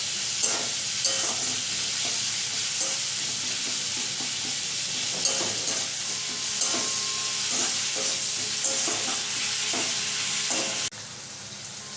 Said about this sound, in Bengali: টমেটো পেঁয়াজের সাথে নুন আর হলুদটা ভালো করে মিশিয়ে নিচ্ছি